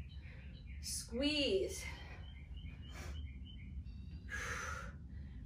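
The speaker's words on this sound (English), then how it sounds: "Birds are going crazy out there." Birds chirping outdoors, heard through a window during an indoor workout; faint, scattered tweets and calls sit in the background under a voice giving exercise cues.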